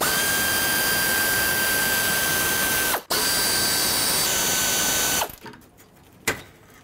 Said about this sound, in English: One last thing here is going to be unbolting the AC condenser.